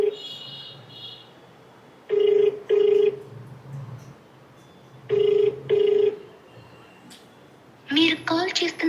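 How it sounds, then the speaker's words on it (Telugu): A telephone rings unanswered in a double-burst pattern, three clear pairs of loud electronic rings spaced a few seconds apart with quieter line noise between, and a final burst that breaks into garbled tones. "ఫోన్ రింగ్ అవుతుంది, లిఫ్ట్ చేయట్లా."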